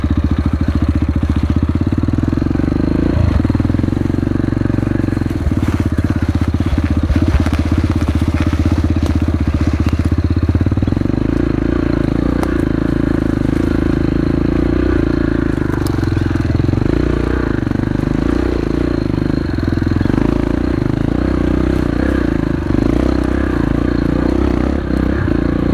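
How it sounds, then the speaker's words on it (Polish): A Yamaha TDR motorcycle engine runs steadily at low throttle, a loud, close, continuous low rumble with faint clattering, and no voices throughout. "TDR-ka jest stworzona do takiej jazdy. Praktycznie bez gazu, silnik mało agresywny"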